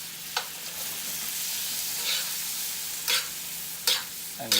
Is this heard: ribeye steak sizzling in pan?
yes